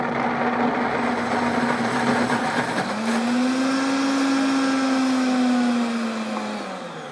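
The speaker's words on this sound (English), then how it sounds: "we'll get it started on the grind setting, and you can see that it'll start a little bit slow and then it'll speed out" A blender on its grind setting pulverizes dry ingredients with a loud, steady motor whine that starts slower and then rises in pitch as it speeds up, continuous throughout.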